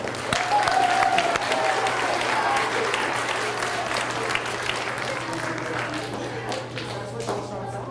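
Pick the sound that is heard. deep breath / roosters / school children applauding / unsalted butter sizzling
school children applauding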